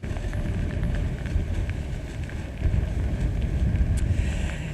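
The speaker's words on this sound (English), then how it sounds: "You can see that rain falling and the winds stirring up the ocean." Tropical storm winds of a hurricane buffet the microphone on Folly Beach, a loud constant roar with ocean surf churning underneath and no voices.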